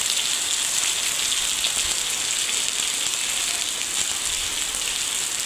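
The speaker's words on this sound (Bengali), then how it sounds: "আপনারা দেখতে পাচ্ছেন বৃষ্টি কীভাবে পড়তেছে।" Monsoon rain pours steadily and evenly, a dense close hiss of drops on surfaces with no break, no voices.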